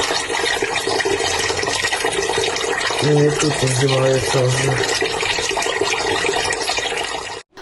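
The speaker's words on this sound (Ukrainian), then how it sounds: "Ничего собі вода течет." Water gushes steadily from a burst pipe on a city street in Dnipro, a loud continuous rushing roar throughout, with a person speaking briefly over it in the middle.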